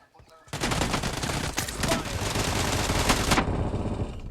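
Loud, sustained automatic gunfire from a shooting video game, a dense burst of rapid shots running continuously for several seconds with no pause.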